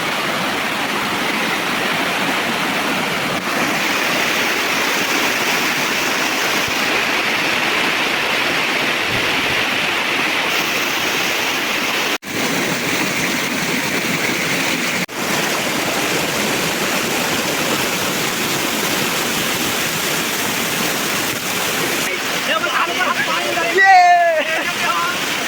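Rushing water at the Dharampur waterfall in Gujarat, a steady broadband roar that runs unbroken for the whole span, with a brief louder splash or gust near the end.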